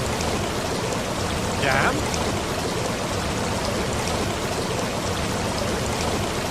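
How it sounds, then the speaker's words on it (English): Steady rain pours down in a dense, constant wash of trickling and pattering that holds even throughout. A voice briefly calls out over it. "The rain's going to get very, very loud."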